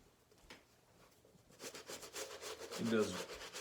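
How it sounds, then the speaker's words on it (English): Medium bristle brush scrubbing a sneaker, a quiet rubbing at first that turns into denser, louder rhythmic scrubbing strokes partway through. "The medium bristle brush does work."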